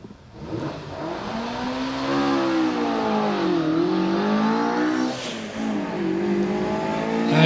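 A Hillman Imp race car launches off the line at a hillclimb, its small engine revving hard and climbing through the gears with a brief dip between shifts, loud and close, no talking.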